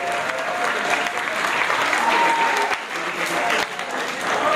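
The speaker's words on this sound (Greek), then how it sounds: "Χειροκρότημα." Audience applause at a school theatre group performance in a Volos municipal hall, a sustained, full round of clapping from the crowd, with a voice briefly audible beneath it.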